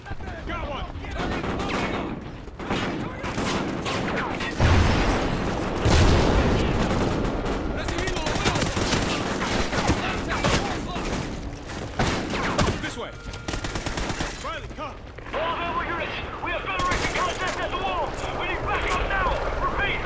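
Heavy gunfire in the Call of Duty Ghosts campaign, with bursts of rifle and machine-gun shots and booming impacts, loud and close, while soldiers shout over the chaos.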